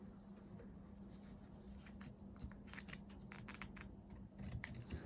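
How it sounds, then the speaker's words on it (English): Fabric scissors snip through felt for a pin cushion craft, a run of crisp, close cutting bursts over a low steady hum, with no talking. "Change over your scissors to your fabric scissors to cut out the felt."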